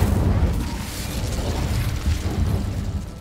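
Incendio fire spell cast in Hogwarts Legacy, a loud, rumbling burst of flame that roars and crackles with low booming pulses throughout, with no talking.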